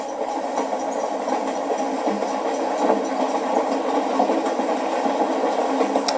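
A train rolls along steadily in a General Hospital TV scene, a continuous close rumble with a faint clatter running unbroken and level throughout, with no speech.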